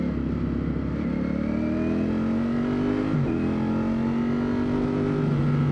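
Ducati Streetfighter V4S motorcycle engine running steadily and revving, with rising and falling tones and one brief dip near the middle, loud and close throughout with no talking.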